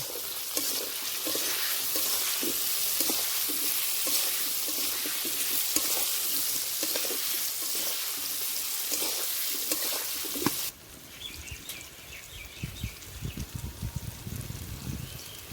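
Turmeric powder is stirred and fried with the masala base for rohu fish curry with taro, giving a loud continuous sizzle with scraping stirs that suddenly drops to a quieter frying with occasional clatters near the end.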